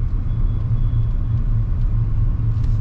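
A car driving on a highway gives a steady, loud, low road and engine rumble throughout, with no talking.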